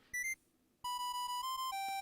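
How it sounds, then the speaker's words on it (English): Monophonic buzzer music from a Tomy Prin-C handheld maze game: a short two-note bleep, a pause, then a steady run of sustained square-wave tones stepping between pitches, close and clean with no talk. "The music here is actually quite nice for saying that it's like a monophonic buzzer"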